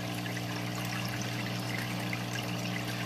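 A Fluval Aquaclear 50 aquarium filter moves water with a steady, continuous trickling rush and a low motor hum, close and even throughout with no talking.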